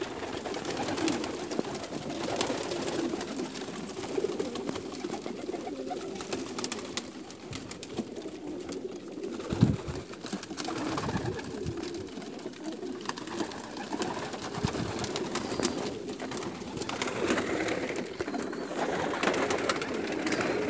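Pigeons or doves in Saudi Arabia coo softly and repeatedly close by, low throaty calls over a constant background hum, with scattered rustling and one brief thump partway through.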